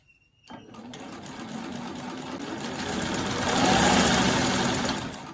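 After a brief pause, a sewing machine starts up and stitches quilt fabric, a steady, fast, close mechanical whir that grows louder toward the end.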